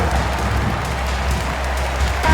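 Crowd applause for the dance squad at a basketball arena in NBA 2K22, a steady wash of clapping and cheering at moderate volume throughout.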